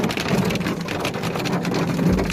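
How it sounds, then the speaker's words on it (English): Heavy rain and hail pound down during a severe Sunday afternoon hailstorm in Mexico City, a dense, steady roar of impacts with faint traffic noise underneath. "This Sunday afternoon, a terrible hailstorm hit the Mexico City, causing floods and damage to some businesses"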